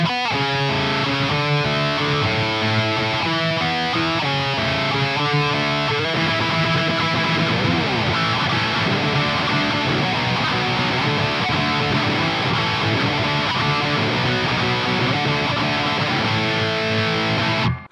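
Distorted electric guitar runs through a Joyo Zombie 2 pedal playing pop punk riffs, loud and continuous, with rhythmic palm-muted chugging giving way to sustained chords over about eighteen seconds.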